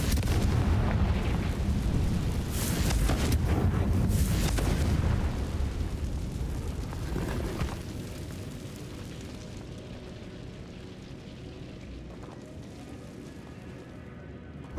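A Confringo fire spell blasts in Hogwarts Legacy, a loud booming burst that rumbles and rolls for several seconds, then decays into a lower, fading crackle with faint game ambience trailing behind.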